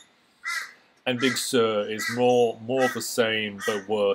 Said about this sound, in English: that's the birds outside chirping